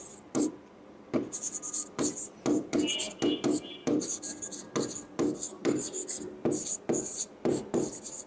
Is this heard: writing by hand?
yes